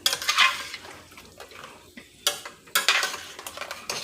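Fish goes into a pot of boiling Jamaican-style brown stew sauce with ketchup. Bursts of bubbling sizzle and stirring mix with clinks of a utensil against the pot, with short pauses between.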